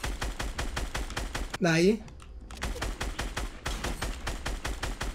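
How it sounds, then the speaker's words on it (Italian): Rapid automatic gunfire in Fortnite, evenly spaced sharp shots in quick bursts with a short pause where a rising tone and a brief spoken word break in, then the firing resumes. "Mi sparano da dietro"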